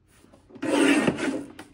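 A paper trimmer slices through a sheet of seafoam-colored scrapbook paper, a short scraping rasp of the blade close by, with a faint shuffle of paper just before.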